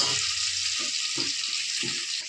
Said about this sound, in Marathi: आता तेलामध्ये भाजून घेऊया